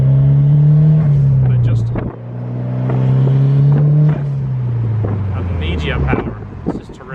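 A Honda S2000 fitted with a titanium exhaust revs and accelerates hard, its loud droning engine note rising and falling through gear changes, with wind noise and a brief spoken remark over it.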